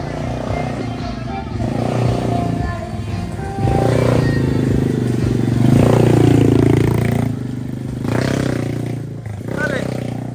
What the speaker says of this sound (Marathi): माऊली बघा किती जोरात चालवतो ATV बाईक